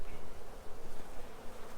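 A dense, steady hum of many honey bees buzzing close by during a hive split, low and continuous with slight fluctuations, no voices.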